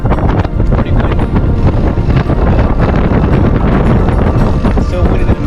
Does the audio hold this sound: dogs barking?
no